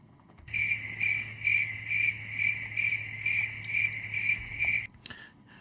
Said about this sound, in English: I had to play the cricket sounds